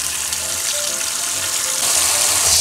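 Steady rushing stream of water pouring into a stock pot holding pork and chicken bones for ramen broth, the hiss growing louder and brighter toward the end.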